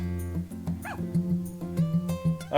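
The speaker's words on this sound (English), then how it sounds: "Puppies!" Puppies in the video game Harvest Moon: A Wonderful Life give a string of short, high yips and barks with a little whimpering, bouncing over a tonal game music bed, close and fairly loud.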